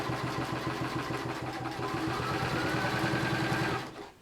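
A sewing machine stitches a bedside storage project, a loud, steady rapid mechanical hum with fast regular pulsing that runs for about four seconds before winding down and stopping.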